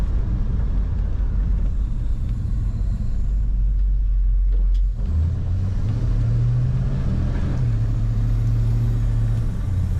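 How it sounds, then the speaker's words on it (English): Exhaust droning and rumbling from inside a moving 1970 Ford Torino GT, with a deep steady note that rises as the engine revs up midway. "Nice exhaust sound."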